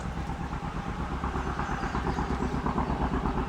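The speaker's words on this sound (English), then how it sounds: "Sounds like a single cylinder old Johnny Popper tractor." An old single-cylinder John Deere "Johnny Popper" tractor chugs in the distance, a steady low rumbling pulse that runs continuously without talk.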